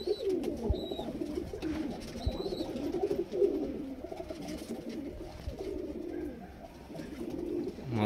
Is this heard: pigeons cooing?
yes